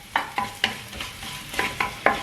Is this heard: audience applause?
no